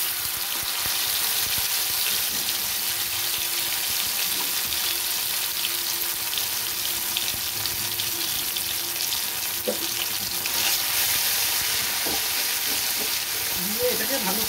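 Poppy, chilli and cashew paste with nigella seeds frying in hot oil, a dense steady sizzle throughout with faint stirring scrapes.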